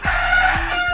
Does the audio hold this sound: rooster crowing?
yes